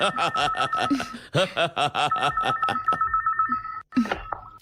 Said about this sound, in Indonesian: Teleponku berdering ya.